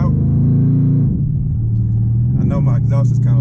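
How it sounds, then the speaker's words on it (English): A modified Dodge Charger with a loud aftermarket exhaust, a deep throbbing rumble that dips slightly and then settles back into a steady idle while someone talks over it. "I know my exhaust is kind of loud"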